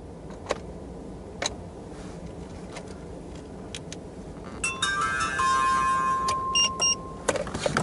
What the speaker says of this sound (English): we try to crank our car